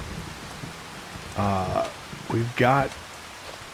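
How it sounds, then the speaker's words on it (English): Steady rain falls in Farming Simulator 25 during a morning storm with tornado warnings, a soft, even hiss in the background while someone talks briefly over it. "I was not expecting it to be raining this morning."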